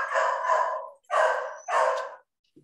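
A dog barks three times in quick succession, close and loud, with short gaps between the barks, in a room during a group discussion.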